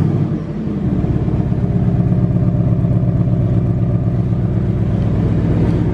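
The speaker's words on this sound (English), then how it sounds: "So we're gonna get a cold start right now" Ford Mustang GT with an X-pipe replacing the resonator, cold-starting: the engine cranks and catches, then settles into a loud, steady, rumbling high idle close by.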